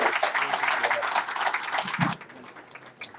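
Audience applause for Senator Padilla at a livestreamed California policy event, steady dense clapping for about two seconds that then cuts off, leaving a quiet room with a faint voice.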